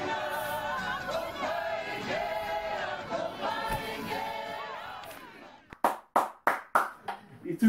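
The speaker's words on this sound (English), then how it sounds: "As soon as they start clapping" Crowd at a Matatini kapa haka performance bursting into loud, rhythmic group clapping in sharp synchronized bursts, after a stretch of chanting voices and loud crowd noise.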